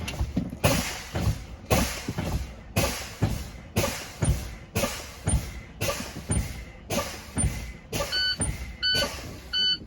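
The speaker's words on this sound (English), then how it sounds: "my low air warning light and buzzer will activate before it reaches below 55 psi" Inside a truck cab during a low air brake test, a string of rhythmic air brake hisses and thumps repeats as the brake is fanned, then an intermittent beeping low air warning buzzer sounds over the last couple of seconds.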